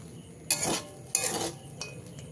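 A spoon scrapes through spiced semolina in a pot in two strong strokes, each a gritty rasping sweep of about half a second, followed by a lighter scrape and faint clinks.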